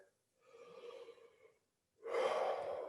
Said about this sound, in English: get a nice relaxed yawn breath, and see if you can match that feeling